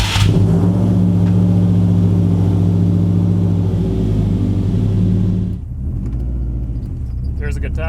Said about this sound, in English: let's take it for a drive and see if it really is fixed